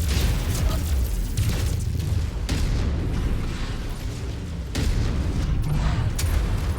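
Heavy booming missile explosions and mech combat rumble in MechWarrior 5, a continuous loud low roar with sharp blasts breaking in at intervals, no talk.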